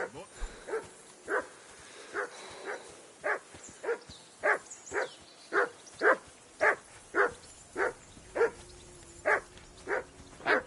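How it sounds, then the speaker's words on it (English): A dog in the video game Kingdom Come Deliverance 2 barks steadily, about a dozen and a half sharp, evenly spaced barks at moderate distance, continuing alone with a faint low hum beneath. "That dog of yours is barking like the devil."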